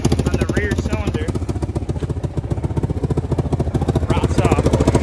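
A Kawasaki Brute Force 750 V-twin ATV with a nasty exhaust leak idles close by, a loud, uneven chuffing pulse with a rapid rhythmic tick, while someone talks over it.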